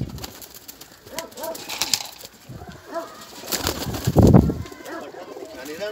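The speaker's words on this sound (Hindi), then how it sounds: "राशद वाला कड़ी वाला कबूतर" Pigeons coo in low, throaty bursts close by, with a few brief rustles and clinks between calls.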